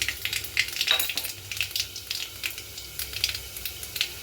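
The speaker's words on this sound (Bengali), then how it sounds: "কালো জিরে ফোড়ন দিয়ে দিলাম" Black cumin (nigella) seeds crackle and sizzle steadily in hot oil, tempering the base for a Bengali boal fish curry with cauliflower; a dense, close frying hiss with small pops throughout, no voices.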